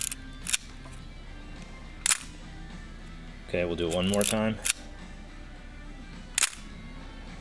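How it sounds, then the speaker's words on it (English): A film camera's shutter fires at a fast speed, four sharp mechanical clicks spaced a second or more apart, close and crisp, with a short stretch of talk in between. "we can barely see the shutter door open and close"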